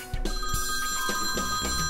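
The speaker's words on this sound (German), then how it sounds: "Ah, Telefon." A telephone rings in a Playmobil police toy film, a bright repeating bell tone starting abruptly after a brief silence and sounding close and clear throughout, with no voices over it.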